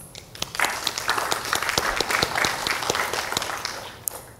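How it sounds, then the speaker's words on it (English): An audience at a plenary awards session bursts into steady applause, many hands clapping close and bright for a few seconds before it thins out. "Please, a round of applause."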